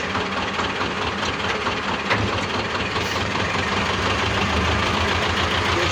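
A T-16 tractor engine drives in third gear, pulling a cultivator in tandem with a roller. Its steady, loud, low rumble and knocking run throughout with no break.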